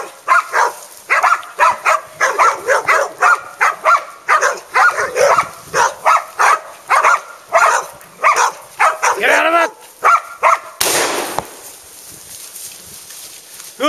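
Hunting dog on a wild pig hunt in New Zealand barking repeatedly in quick, loud, close bursts, excited and urgent, with a rough rasping stretch near the end.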